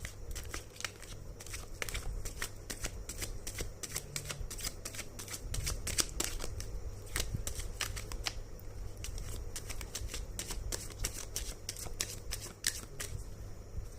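Tarot cards are handled and shuffled close up in a quiet room, with a rapid, continuous run of crisp riffling flicks and soft slaps.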